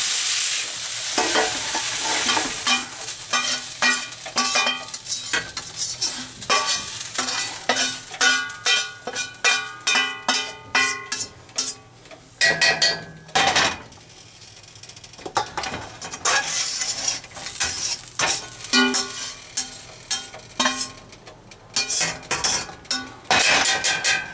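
Onions caramelizing in a pan for French onion soup, stirred with a utensil that scrapes and clinks against the pan in frequent strokes over a steady sizzle, close and loud, with no voices.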